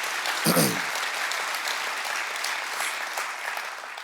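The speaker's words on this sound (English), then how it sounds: "So, y'all clapping." Audience applause fills a hall for a comedy special, a dense, steady patter of many hands that holds throughout and tapers slightly at the end, with a brief voice near the start.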